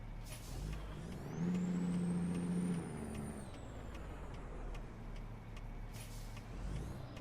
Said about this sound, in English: You really have to press on the brakes on the pedals.